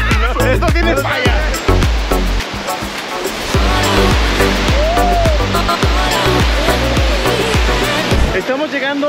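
El Suspiro waterfall at Cascadas El Chiflón in Chiapas, a loud continuous rush of falling water under repeated close thumps, knocks and handling noises, with a brief whistle-like tone partway through.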